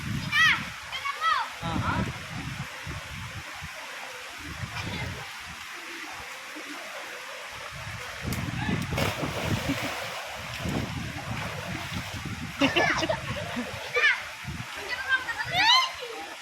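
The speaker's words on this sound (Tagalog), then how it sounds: "Yan ang batis ni Vice from Dingalan, Aurora." Rushing, splashing stream water outdoors in Dingalan, Aurora, with wind buffeting the microphone, while people talk and shout over it.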